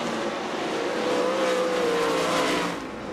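Sprint cars at the Knoxville Nationals slide hard into the first corner of a dirt oval, a loud sustained engine roar with a rising whine and no speech.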